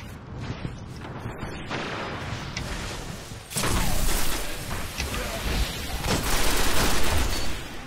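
Dense volleys of gunfire in a Destiny Crucible Control match on the Rusted Lands map, with sharp overlapping shots running throughout and growing louder and heavier in the second half.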